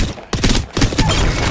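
Brief burst of rapid gunfire in the video game Apex Legends, loud and close, two quick volleys of shots packed into a second and a half.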